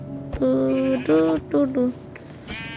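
A goat bleats in the Minecraft video game as it is struck and killed, a few short wavering cries close up with a faint voice between them.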